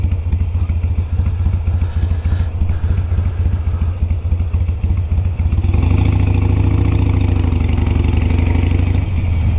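The smallest Harley-Davidson motorbike, shiny chrome with polished black panels, idles close by with a loud, lumpy throb, then the engine note rises and steadies as it revs up toward the end.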